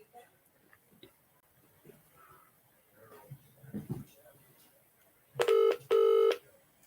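Two loud electronic telephone tones sound in quick succession near the end, preceded by faint, quiet background sounds and low talk.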